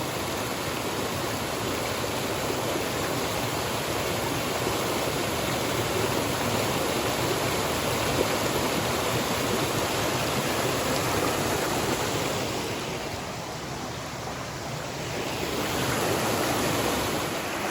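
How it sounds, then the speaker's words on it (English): Middle Quail Falls pours into a rainforest creek, a dense, steady rush of falling water that fills the scene at an even level, dipping briefly before swelling back, with no voices. "But this is the Middle Quail Falls."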